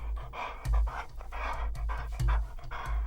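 A trained detection dog pants in quick, close, steady breaths at an inspection area, the rhythmic huffing running throughout with no talk.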